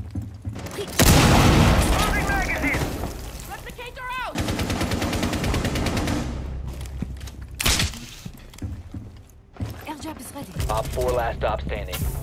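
Bursts of rapid gunfire and heavy booms from cluster charge explosions fill a Rainbow Six Siege match, loud and close, with quieter gaps and short bits of talk between the volleys.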